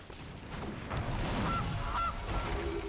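In the Magic Arena digital card game, playing the Gilded Goose card brings two short, quiet goose honks about half a second apart over a murky game background.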